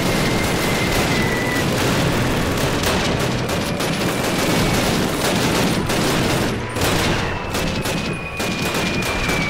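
Dense rifle and machine-gun fire crackles nonstop in a WWII battle in the 2003 video game Call of Duty, loud and chaotic with overlapping shots and booms.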